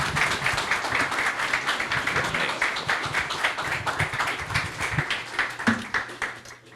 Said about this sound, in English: let's please give a big round of applause to Secretary Saunders as she comes forward.